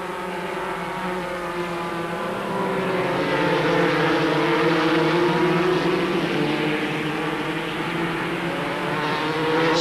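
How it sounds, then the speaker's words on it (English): VW-powered Reynard Formula 3 racing cars at the 1989 German F3 round at Diepholz, a loud, sustained high-revving engine whine that rises and holds steady as the cars pass, with no voices. "a brief shot of Bartels, also driving a VW-powered Reynard."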